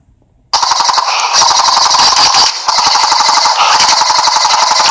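Rapid bursts of airsoft gunfire rattle loudly in quick, continuous strings, with sharp clicking impacts of rounds hitting cover and a short pause midway.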